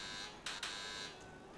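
An apartment door buzzer in GTA 5 Online sounds once as a short electronic buzz of about half a second, fairly faint and alone.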